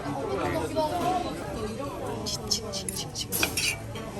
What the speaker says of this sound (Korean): 치킨 내가 썰어볼 테니까 기다려